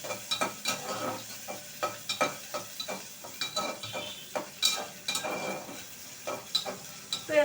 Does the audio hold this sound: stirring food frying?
yes